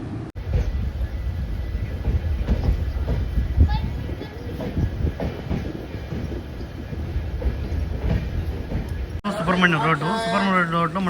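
Karwar Express train running through a mountain ghat section, a steady low rumble of wheels and carriages continuing throughout, with a voice talking over it and a brief tonal change near the end.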